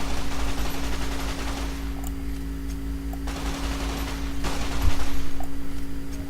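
Sustained full-auto rifle fire from a converted weapon in Fallout: New Vegas rattles continuously at close range, with a steady low hum underneath and a brief louder burst near the end.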